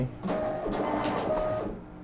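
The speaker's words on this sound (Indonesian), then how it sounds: "nah ini dia hasil cetak dari printer barcode nya" A ribbon barcode printer runs off a batch of labels, a continuous close mechanical whirr and feed noise lasting nearly two seconds, with no talking.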